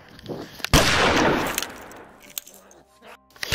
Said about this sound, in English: Oh my gosh, that was gunshots.